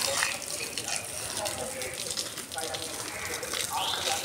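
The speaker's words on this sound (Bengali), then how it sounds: "চলো আমি গাছে জল দিয়ে নিই" Water gushing and splashing steadily while potted plants on a rooftop are watered, a continuous close hiss that swells slightly toward the end, with no talk over it.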